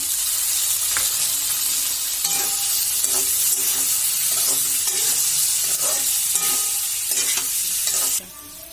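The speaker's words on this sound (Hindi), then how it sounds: "पियाज कषा हो गला। आलू को पकई देगा।" Onions and potatoes frying in oil for paneer curry, a steady loud sizzle with repeated scraping stir strokes throughout, cutting off near the end.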